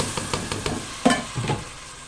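A tomato goes into a pot of carrot, courgette, celery and turnip soup with spices, giving a few close, soft clunks and a stirring scrape over a faint simmer.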